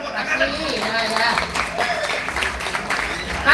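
An audience at a Balinese Cupak performance by a Gianyar dance troupe breaks into sustained applause, a dense wash of clapping with crowd noise and a voice speaking over it.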